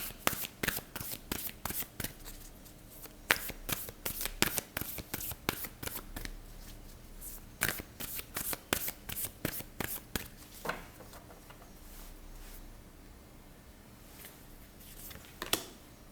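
Tarot cards are shuffled up close in rapid, irregular bursts of crisp riffling and slapping, with a brief pause near the end before a last few snaps.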